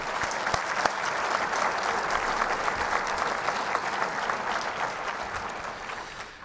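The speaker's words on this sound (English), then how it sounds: "if we could give John and Ann a round of applause" A live audience at an architecture award ceremony applauds for John and Ann, with steady, dense clapping that holds at an even level for the whole stretch and carries no talk over it.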